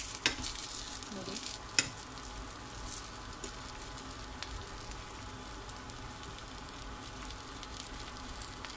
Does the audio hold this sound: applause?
no